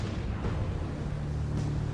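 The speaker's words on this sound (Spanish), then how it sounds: "Hacen más de 600 disparos con sus cañones de 12 centímetros." A warship's 12 cm naval guns fire in heavy, booming blasts with a dense, rumbling roar filling the whole stretch, loud and close.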